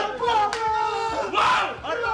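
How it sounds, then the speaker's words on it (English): An esports team roars and yells in a venue after qualifying for the PGL Major Antwerp 2022 in Counter-Strike, loud overlapping shouting voices with a sharp burst midway, close and sustained. "You could hear them yelling from across the venue."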